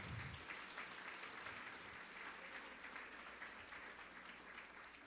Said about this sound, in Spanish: Apláudale fuerte.